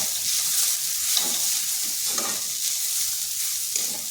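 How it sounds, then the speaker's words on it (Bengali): Potatoes get stirred together with Maggi masala in a hot pan, producing a steady, loud sizzle broken by rhythmic scraping stirs about every second, with no voices. "এরপর আলুর সাথে ভালো করে মিশিয়ে নিচ্ছি।"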